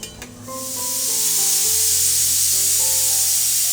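Fish dropped into a hot pan of curry, a loud sizzling burst that swells within a second and then holds as a steady close hiss of frying, with faint tonal background sounds underneath and no talking.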